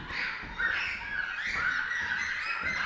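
A voice imitates a chicken with loud, warbling squawks and clucks, continuous and close, with no other talk.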